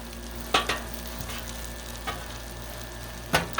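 Sausage and egg frying on a Blackstone propane griddle with the burners off, a soft steady sizzle close by, broken by a few sharp scrapes and taps of a spatula.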